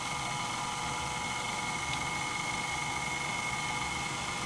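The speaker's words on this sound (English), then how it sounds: "our dough hook's on. Now we're going to start kneading for about 5 minutes." A stand mixer with a dough hook kneading hamburger bun dough, its motor giving a steady high-pitched whine and drone throughout, close and constant.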